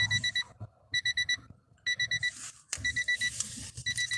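A loud electronic alarm beeps in rapid clusters of four, repeating with short gaps, close and insistent over faint background noise.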